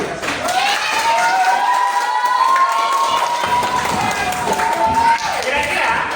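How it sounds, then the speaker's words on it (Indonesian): Schoolchildren in an Indonesian classroom clap and cheer together during a computing lesson, a loud, steady burst of applause mixed with high shouting voices that carries through the whole stretch. "Tepuk tangan dulu untuk kita semua."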